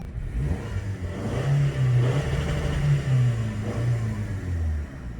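A naturally aspirated Toyota 2.5 liter 4-cylinder in a 2021 RAV4 Adventure cranks over and settles into a steady idle, with a couple of close, loud rev rises and falls.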